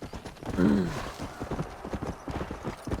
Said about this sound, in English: This horse is just unironically fast as fuck.